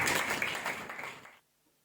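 Applause from the audience at a Christmas program at PPA Church in Erode, a full burst of many hands clapping that thins out and stops abruptly partway through, leaving near silence.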